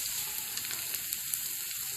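Garlic-ginger tadka sizzles as it hits a pot of daal, a loud, steady frying hiss throughout with a few small pops and a sharp clink at the very end, no voices.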